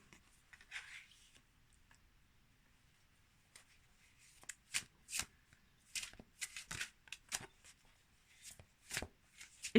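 Animal oracle cards are shuffled by hand, quiet at first, then a series of crisp riffling bursts close up, irregular and crackly, with faint speech in the background.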